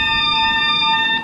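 A loud electronic alarm tone sounds from several IP PoE network speakers set off by an alarm input, holding steady, layered pitches without a break through the whole stretch before trailing off at the very end.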